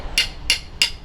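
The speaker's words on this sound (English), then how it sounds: "I've got my center location marked out on the end of each stick, and I'm going to get it with this punch." Metal punch struck with a hammer to mark the center on the end of a wooden shooting stick, three sharp, bright taps evenly spaced and close.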